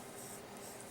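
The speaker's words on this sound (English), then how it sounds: "I'm going to sketch like this. Hold my pencil way back here so I can make this easy long line" A pencil drawing a long, smooth line on paper while sketching a rabbit head, making a faint, steady scratching that runs unbroken for about a second.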